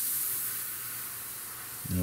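A Gunze Mr Airbrush PS-770 airbrush spraying at high pressure, a steady airy hiss close to the listener that fades slightly before a voice briefly starts at the end.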